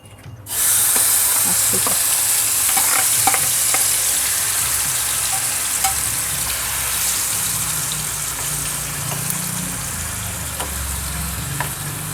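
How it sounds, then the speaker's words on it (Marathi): Masala paste for a stuffed pomfret fry, Koli style, hits hot oil and fries with a loud, steady sizzle that holds for the whole stretch, with faint stirring clicks on top and no talking. "तेलावरती आपण तयार वाटण घालून घेऊया."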